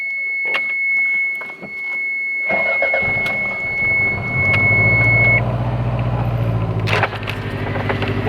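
A Toyota MR2's engine cranks and catches around the middle, then settles into a steady, loud idle close by, with a sharp clunk near the end and a thin high whine over the first half.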